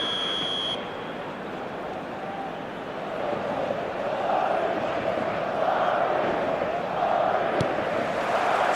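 Stadium crowd in the eFootball video game, a steady distant roar that swells gently over several seconds, opening with a short electronic tone.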